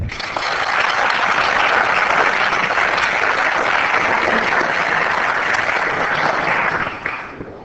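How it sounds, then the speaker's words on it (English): An audience at a city council meeting applauds in a steady, dense wash of clapping that holds loud and even for about seven seconds before tapering off. "Please give Kelly a round of applause"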